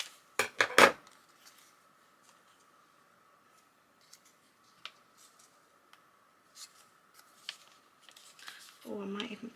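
Scissors cutting paper for junk journal embellishments: a few quick snips close up at the start, then faint scattered cutting and rustling over a quiet hum, with someone talking briefly at the end.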